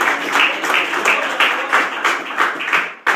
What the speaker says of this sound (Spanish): Si alguien cree, denle un aplauso en esta hora al Señor.